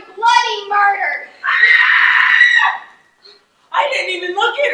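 A woman screams several times in sharp, loud, harmonic bursts with short gaps between them, close and dominant, in a staged high-school drama scene at a family reunion.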